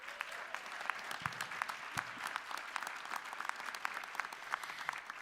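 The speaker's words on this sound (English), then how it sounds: "Can we also give another round of applause to all of tonight's winners?" An awards-show audience at the 14th Annual AAFCA Awards applauds the night's winners with sustained, dense clapping from a large crowd in a hall, holding steady for several seconds with no speech.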